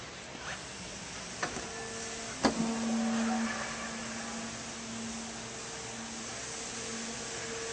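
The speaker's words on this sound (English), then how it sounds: "the power-assisted rear gate closes at the push-up button" Power-assisted rear liftgate on a 2008 Chevrolet Tahoe closing: a click, then a low steady motor whine for several seconds against faint background hum.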